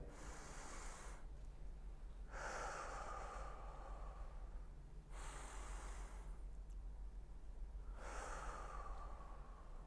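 Slow, deep breathing while holding a yoga squat, with four long audible breaths, alternating inhales and exhales, close to the microphone and otherwise quiet.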